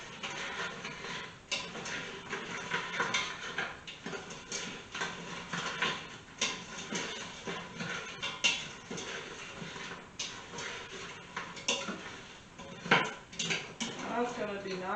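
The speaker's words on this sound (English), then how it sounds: "Stir it all together." A big spoon stirs strawberry cheesecake mixture in a bowl, giving repeated knocks, clinks and scrapes against the dish at an uneven pace, close and moderately quiet, with no clear talking.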